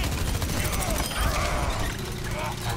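Rapid gunfire in the Overwatch video game, a dense run of overlapping shots and mechanical clatter, loud and continuous with some voice mixed underneath.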